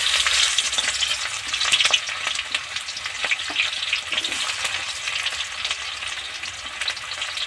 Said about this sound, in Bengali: কড়া তো গরম হয়েই গেছে, শুকনো লঙ্কার তেজপাতা দারুণভাবে ফ্লেভার বেরিয়েছে। এবার এর মধ্যে পেঁয়াজের টুকরো কটা উঠিয়ে দেব।